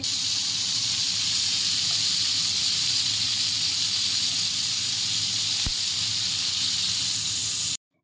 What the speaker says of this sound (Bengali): এই যে ফুলকপিটা ভাজা হচ্ছে